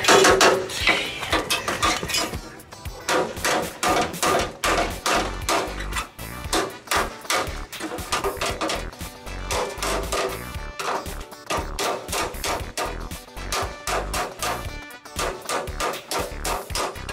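Loud metal hammering close by on a 1967 VW Bus frame: a rapid, steady run of sharp ringing blows that keeps going almost without pause.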